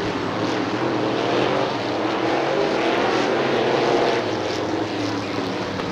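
Super late model race cars accelerating off turn 4 at Crystal Motor Speedway in Crystal, Michigan, heard as a steady, loud engine roar that holds throughout with no talking over it.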